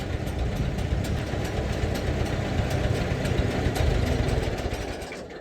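An Oliver crawler tractor idling in snowy woods, a loud, close, low rumbling engine chugging steadily on its own.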